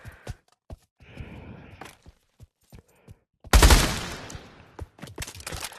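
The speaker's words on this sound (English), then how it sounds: "I'm shooting randomly." Video game gunfire: scattered sharp single shots and clicks, then a loud burst of rapid fire with a dense roar midway, followed by more sparse shots.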